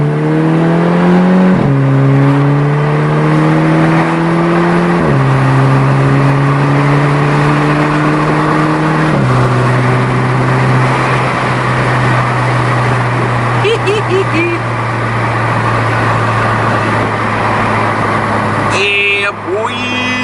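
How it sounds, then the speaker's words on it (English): A car pulls hard in second gear from a 30 mph roll in the early morning. The loud engine climbs through several rising revs with gear-change drops, and the engine note stays strong right to the end. "How about an early morning pull? Second gear rolling, 30 miles an hour."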